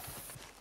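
Horse hooves clip-clopping in the Red Dead Online video game, a brief run of quick, faint hoofbeats in an even rhythm.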